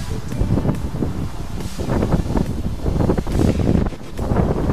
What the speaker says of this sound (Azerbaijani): Çünki biraz küləkli də hava.